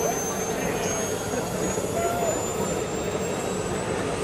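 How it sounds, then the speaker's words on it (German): A Dynamo 2 RC trainer model turbine jet flies in to land at a jet model fair, its steady turbine whine and rushing roar sustained throughout, with a voice commenting over it. "Der kleine Jet kommt jetzt rein, sieht sehr gut aus."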